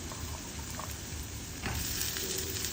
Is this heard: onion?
yes